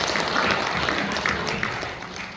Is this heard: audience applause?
yes